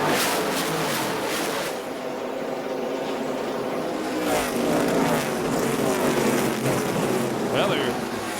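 NASCAR Busch East Series stock cars roar past on the Dover oval in a loud, sustained engine drone, with the pitch sweeping as the pack passes on a restart through turn 4 and crowd noise underneath.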